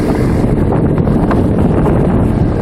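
A Trane heat pump running in heat mode, a 13 SEER unit, blows a steady loud rush of air close by, a continuous broadband whoosh with no voices.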